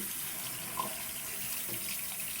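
Warm tap water runs steadily from a faucet into a sink for tooth brushing, making a constant, moderately faint splashing hiss with no talk over it.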